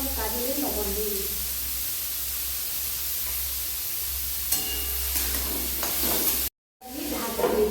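Long strips of salted carrot fry in a kadai with a steady, close hiss and sizzle that cuts out abruptly for a moment near the end, then resumes.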